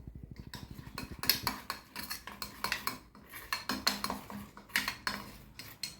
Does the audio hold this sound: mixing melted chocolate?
yes